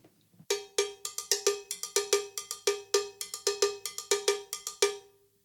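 A Cuban mambo groove on a drum kit, with bright cowbell-like strokes repeating in a steady syncopated pattern and low drum hits underneath, played alone and close.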